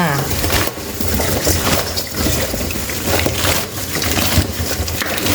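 Water spinach being squeezed and kneaded by hand with salt and sugar, giving wet crunching, squishing bursts in an uneven rhythm, close and fairly loud, with someone talking over it.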